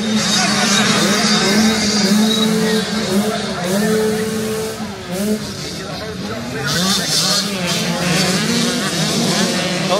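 Several 85cc dirt bike engines scream and rev hard together off a motocross start gate, a loud, sustained, wavering buzz of high-pitched two-stroke motors with speech mixed in.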